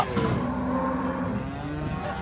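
A bull of northern breed bellows at a busy cattle market, one long, loud, close moo with a wavering pitch, with faint crowd noise underneath.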